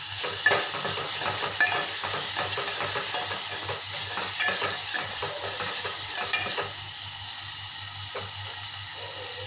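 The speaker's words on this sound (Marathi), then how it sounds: "आता मी 1 टोमॅटो चिरलेला घालत आहे।" Chopped tomato going into mixed vegetables frying in oil, with a continuous sizzle under steady scraping and stirring of a utensil in the pan, close and even throughout.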